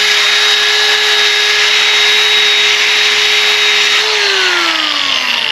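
A rotary sander with an aggressive 40-grit disc, a spin-only type used for fairing gelcoat and fiberglass, runs with a loud, steady high whine whose pitch bends near the end as the speed changes.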